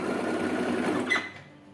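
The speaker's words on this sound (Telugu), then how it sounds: "రైట్ సైడ్ లోపలికి పెట్టుకొని ఫ్యాబ్రిక్ పైకి స్టిచ్ చేసుకోవాలి చూపించినట్టు" A sewing machine stitches fabric for a child's lehenga, running in a steady close whir that stops near the end.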